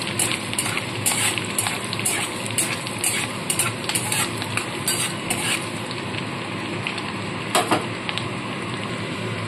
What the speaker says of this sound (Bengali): কাঁচা লঙ্কা, আদা, রসুন একটু নাড়াচাড়া করে নিয়ে